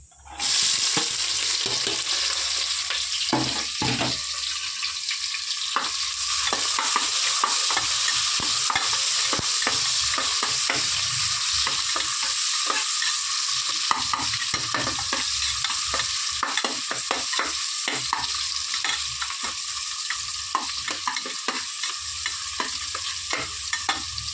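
Onions sizzling in hot oil for tomato rice, a steady loud frying hiss running throughout with occasional stirring scrapes and no talk.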